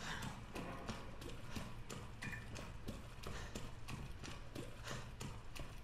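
Heavy footfalls from a pursuer in Resident Evil 2 thud in a steady, repeating rhythm through the whole stretch, set against a dense game soundscape with no talk.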